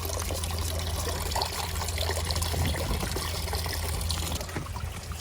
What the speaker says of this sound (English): these guys are gonna help run it through the cleanup sluice now